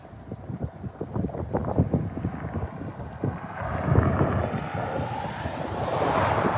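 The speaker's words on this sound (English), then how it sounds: "it's really blowing that dust over there" Strong wind gusts roar across the microphone in Arkansas storm-chase conditions, blowing dust. A continuous, buffeting rush with heavy low rumble swells and surges loudly throughout, with no voices.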